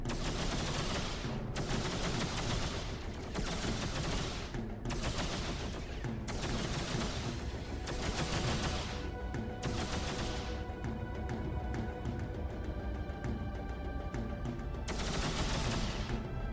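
Ship weapons in the space game X3: Albion Prelude fire repeatedly at a target, bursts of heavy rapid shots in pulses separated by short gaps, loud and continuous over the whole stretch.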